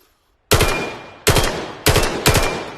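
Grot B gun firing in the VR game Vail: four loud, sharp bursts after a brief silence, each a crisp crack with a fast decaying tail, spaced roughly evenly apart.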